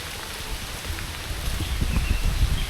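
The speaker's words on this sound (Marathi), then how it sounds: "एवढा पाऊस येतोय" Heavy rain during a hill fort trek at Kamalgad, a continuous dense hiss of falling water mixed with low rumbling gusts that build slightly toward the end, no talking.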